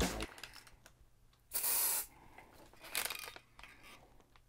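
Short hissing bursts from a spray paint can aimed at sneakers indoors: one long blast and several shorter puffs with quiet gaps between them, close and loud, with no voices.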